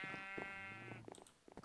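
A sheep in the Minecraft video game bleats once, a sustained harmonic baa up front, followed by a few soft clicks and game noises.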